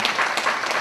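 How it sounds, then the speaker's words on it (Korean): Brief applause from a church congregation welcoming back a member, a short burst of scattered clapping with no talk. "박수로 또"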